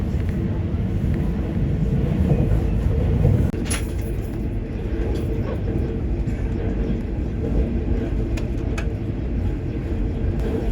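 A steady low rumble and rattle of a train rolling along the tracks as it crosses the Wuhan Yangtze River Bridge at night, continuous and fairly loud, with faint clicks over the drone.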